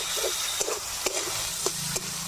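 Sliced onions sizzle in hot oil while a spatula stirs them, a constant frying hiss broken by a few sharp scrapes against the pan, close and alone, during cooking of a dried-fish curry.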